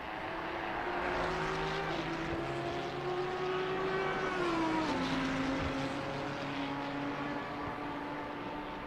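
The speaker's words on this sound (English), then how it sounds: "And you can hear the tires screeching." Tires screech under cornering in a racing video game at the Kyalami circuit, a thin sliding squeal that rises and dips over a steady engine drone, with no talk.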